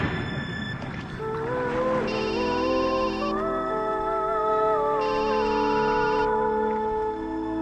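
A mobile phone ringtone for an incoming call plays as a steady electronic melody of sustained tones, loud and close and nearly alone, in a scene from the Telugu feature film Maska.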